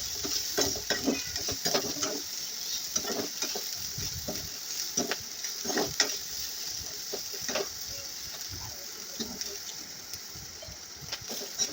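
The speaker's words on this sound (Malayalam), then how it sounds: "വറുത്തെടുത്ത ശേഷം നന്നായി ചെറുതായി മുരിയുന്നത് വരെ വറുത്തെടുക്കണം." Food sizzles in hot oil while a utensil stirs and scrapes the pan in repeated, uneven strokes, close and moderately loud.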